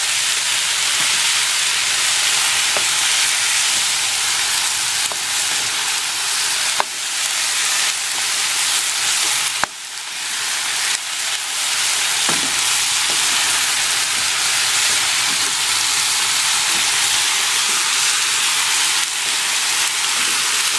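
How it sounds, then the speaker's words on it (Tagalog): Chicken gizzards seasoned with salt and pepper fry in hot cooking oil, giving a loud, steady sizzle that runs without a break, with a few sharp pops and crackles. "hintayin natin guys na medyo ma-fry siya ng konti doon sa cooking oil"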